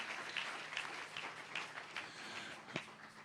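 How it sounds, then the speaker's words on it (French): A church congregation applauds during a Sunday service, a faint and fairly thin spread of clapping with a few sharper individual claps heard at a distance. "Est-ce qu'on peut acclamer le Seigneur pour cela?"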